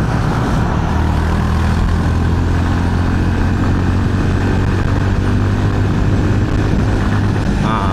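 A Honda CB350RS motorcycle engine roars at a steady high rev against its rev limiter, a loud, continuous droning note with no pauses.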